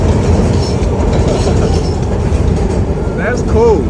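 A train rumbling past in Kensington, with a steady loud roar and clatter of railcars close by throughout, and faint wheel squeals near the end.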